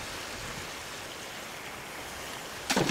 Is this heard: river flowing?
yes